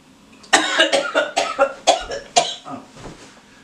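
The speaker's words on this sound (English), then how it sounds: "we had a little bit of a cough there" A run of several harsh coughs, close and loud, fired in quick bursts one after another before trailing off, with no talking.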